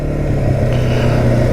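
Kymco Maxxer 450i ATV engine droning steadily while riding, a close, continuous low hum with a slight rise midway and no talking.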